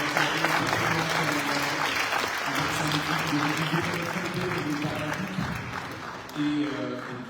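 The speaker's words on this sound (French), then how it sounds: "On peut l'applaudir." Audience at a ceremony chaired by the Comoros ambassador to UNESCO applauds Léa, a sustained, even patter of many hands while a voice talks over the clapping throughout.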